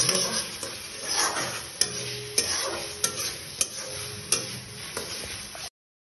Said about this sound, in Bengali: এখন দই আর কাজুর যে পেস্টটা ছিল সেটা দিয়ে দিয়েছি, আর ভালো করে নাড়িয়ে মিক্স করে নেব